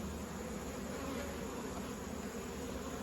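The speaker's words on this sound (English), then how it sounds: "The bees are trying to get in." Bees drone around an open beehive, a dense, even, continuous buzz at moderate distance with no pauses and no talking.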